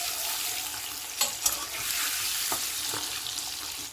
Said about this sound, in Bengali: ডিম ভাজা হচ্ছে, একটু উল্টে পাল্টে দিচ্ছি।